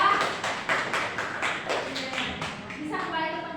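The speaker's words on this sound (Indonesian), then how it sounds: "Tepuk tangan untuk kelompok 2." Classroom applause for a student presentation group, a patter of claps from several children that runs steadily and fairly close, with a voice speaking over the end.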